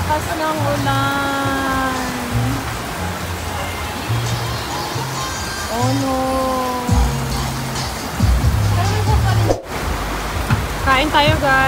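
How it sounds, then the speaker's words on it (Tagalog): Heavy rain pours down steadily as a broad hiss throughout, with people talking and exclaiming over it at a street food stall. "Umuulan! Ang lakas ng ulan!"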